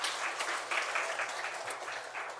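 Applause from a church congregation at a Sunday worship service, steady broadband clapping filling the room for the whole stretch, no voices over it.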